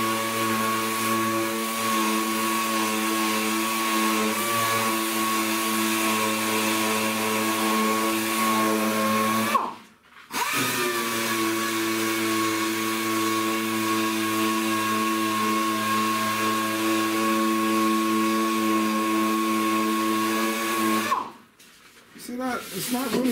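A power tool fitted with a dry pad grinds steadily against a car's painted, rusty metal, giving a loud sustained whine that cuts out briefly twice.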